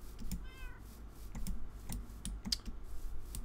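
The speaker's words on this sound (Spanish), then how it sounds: "¿No se oye muchísimo el teclado?" Close, clicky typing on a gaming keyboard during Minecraft play, with scattered keystrokes over a low background hum and a brief meow-like chirp near the start.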